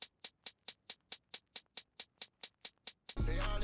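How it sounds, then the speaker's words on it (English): Crisp, evenly spaced hi-hat hits in a quick steady pulse for an R&B trap beat, each one swelling like a reversed hi-hat layered behind the main one, close and dry, before a dense, heavy full beat crashes in at the end. "I did like just another hi-hat behind it, reversing into it"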